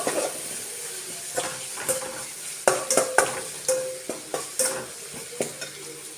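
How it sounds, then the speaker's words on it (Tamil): Onions sautéing in oil with a generous pinch of asafoetida for paruppu sambar: a steady sizzle under repeated stirring, with sharp scrapes and clinks of the spoon against the pan, close and fairly loud. "இப்போ வந்து வெங்காயம் நல்லா வதங்கிடுச்சு"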